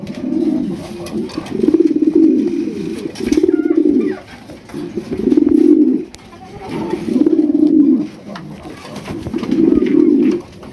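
Large Indian Bombay pigeons at a pigeon sale coo loudly and close by, in a steady run of throaty rolling calls about every two seconds over a noisy background.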